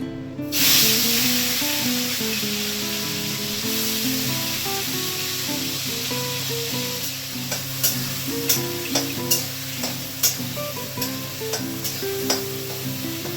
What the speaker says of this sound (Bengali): চিংড়ি মাছগুলো ভাজা হয়ে গেল, আমি উঠিয়ে নিচ্ছি।